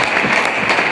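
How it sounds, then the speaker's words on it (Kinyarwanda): A church congregation at a pastor's installation ceremony claps together, a brief, dense, loud burst of applause close by with no talking over it. "Mumfashe tubakomera amashyi, tubashimire."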